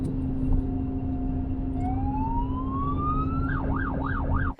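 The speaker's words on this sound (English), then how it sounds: "I think you got a police car behind it." A police car siren rises in pitch, then switches to a fast wailing yelp over steady engine and road noise during a stolen-car chase reaching 150 km/h, loud and close.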